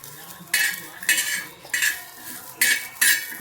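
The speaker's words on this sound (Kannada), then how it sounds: "ಇದನ್ನೆಲ್ಲ ಬಿಡಿಸಿಟ್ಟು ಹಂಚಿನಾಗ ಹಾಕಿ ಈ ಥರ ಫ್ರೈ ಮಾಡ್ಕೊತಿದ್ದೀನಿ" Cooking on a griddle pan, heard as a series of sharp metallic scrapes and clinks from a spatula, about six bursts in quick succession, close and with no talk.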